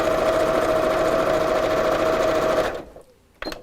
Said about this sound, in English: we'll sew or just top stitch straight across the top